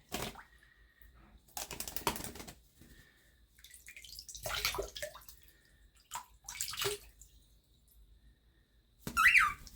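A pet cockatiel splashes in a bird bath in short bursts of wet flapping and water spatter, separated by quiet gaps and ending in a louder close splash.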